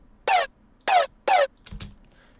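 A synthesized laser bass with filter and phase modulation fires three loud, separate zapping notes in quick succession, each with a falling sweep, followed by a softer, low, buzzy double blip.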